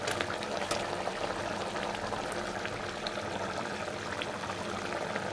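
Fried Bombay duck fish simmer in a spiced tomato curry, with a steady close bubbling and sizzle running evenly throughout, unbroken and without talk.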